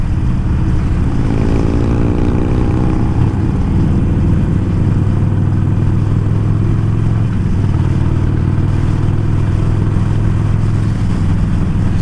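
A group of motorcycles rides together, among them a Harley Iron 1200, a Suzuki TL1000 V-twin and a Triumph Bonneville, with a loud, steady engine drone and wind rush and a brief rising rev near the start.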